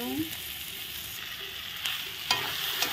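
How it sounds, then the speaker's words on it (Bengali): Mashed potato with spices sizzles and fries steadily in a pan, with a few soft scrapes of stirring and no voices. "আলু যত কিছু মশলা দিয়েছি সব কিছু ভালো করে একদম ভালো করে ভাজা ভাজা করে নিই"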